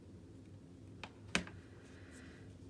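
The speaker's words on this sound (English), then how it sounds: "I'm just going to snip this little tail off." Scissors snip a thread tail off a finished hand-pieced quilting seam: one faint crisp click followed by a sharper, slightly louder snip in an otherwise quiet room.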